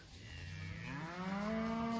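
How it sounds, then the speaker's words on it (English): Cattle mooing during a cold fall morning cattle drive at Green Pastures Farm, a long, loud, close bellowing moo that rises and sustains, with other cattle lowing underneath. "Just got a cattle drive."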